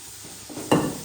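Onions with ginger garlic paste frying in a pan for kuzhimanthi, a soft background sizzle that rises into a brief louder burst of hissing and stirring near the end.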